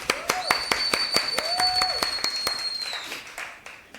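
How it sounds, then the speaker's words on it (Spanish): Audience at an evening storytelling event clapping in scattered, uneven claps that fade toward the end, with a couple of long whistle-like tones sounding over the clapping. "Un fortísimo aplauso nuevamente para Juanes para que entre en calor."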